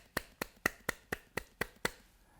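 Eight crisp, evenly spaced claps come in a steady beat during an online worship service, faint and fairly close, with no voices over them.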